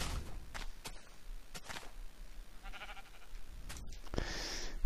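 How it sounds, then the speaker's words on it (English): Sheep in the Minecraft video game bleat several times in short, separate calls of moderate loudness, along with a few faint footstep-like sounds and no talking. "There's a sheep over here."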